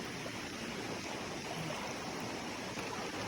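A clear river far from town flows steadily in a rural province, giving a continuous broadband rush of water with no voices over it.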